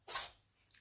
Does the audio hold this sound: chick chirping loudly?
no